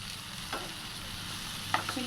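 Ground chilli, coriander and turmeric powders fry in a softened tomato curry, giving a steady close sizzle with a few faint stirring scrapes and no talk.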